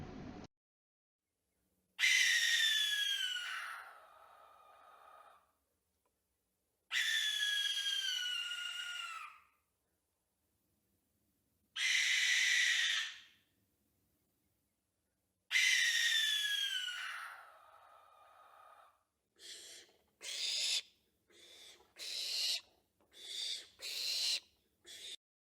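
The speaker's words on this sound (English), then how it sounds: "Let's hear the barn owl." Barn owl screams ring out as four long, harsh, hissing shrieks with silent gaps between them, then a run of six shorter, rapid screeches close together, loud and near with no other sound.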